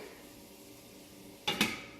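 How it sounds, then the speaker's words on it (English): A lid set down on a frying pan of burgers gives two quick metallic clanks in close succession near the end, over a faint steady sizzle. "When I'm frying stuff, because of the grease, I usually put the lid on top."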